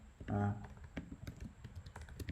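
Quiet close clicking of keys on a computer keyboard while a code comment is typed, with a brief spoken voice at the start.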